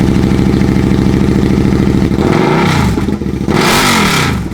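A 2018 Suzuki SV650 motorcycle starts up with the exhaust removed, a loud, close, raw engine note that steadies into a rough idle, then revs twice in quick blips.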